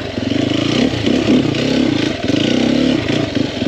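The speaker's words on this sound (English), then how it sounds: "I'm really impressed with the four-stroke motor on this" Four-stroke engine of a 2021 Sherco 300SEF dirt bike revving steadily up close, a loud buzzy drone that swells and eases with throttle changes and a slight clatter, with no talk over it.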